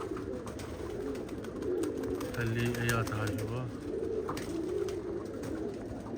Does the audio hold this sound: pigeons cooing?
yes